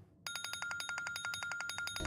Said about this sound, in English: With the phone ringing.